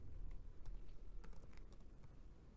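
Quiet, irregular clicks of fingers typing on a computer keyboard, a few keystrokes close by with short pauses, over a faint low hum and no talking.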